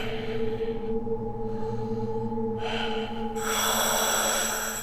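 Slow, heavy breathing coming through speakers in an empty building, with a snorting, gasping texture over a constant electronic hum, swelling louder toward the end.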